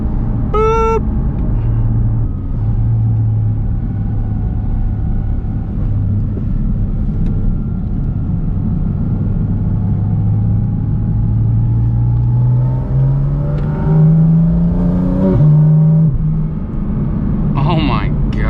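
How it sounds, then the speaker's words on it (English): A 2023 Porsche Cayman GT4 RS engine drones and climbs steadily in pitch as it revs up under acceleration, heard from inside the car with excited voices talking over it. "the sounds this car makes"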